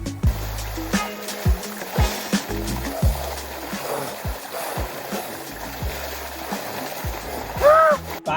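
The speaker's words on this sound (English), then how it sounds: "They put a pipe here. Now it's time for a shower." Water pours from a pipe rigged as an outdoor shower at a mountain campsite, giving a steady rushing splash with a few louder knocks and thuds over it.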